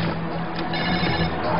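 A telephone rings in a household scene, one short and loud burst of bright, muffled ringing that lasts under two seconds.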